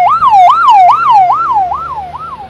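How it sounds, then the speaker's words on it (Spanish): A second ambulance pulling away from the hospital in Realicó after a head-on crash on national route 35 sounds its siren, a loud, close, rapidly wailing yelp repeating about five times with no talk over it. "aquí sale entonces la segunda ambulancia del hospital de Realicó"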